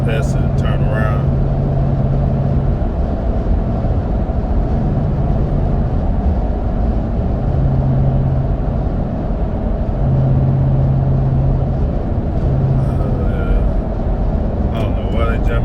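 Mickey Thompson Baja Boss A/T tires rolling on the road heard from inside a moving vehicle: a loud, steady low drone of tire and road noise throughout, with someone talking over it.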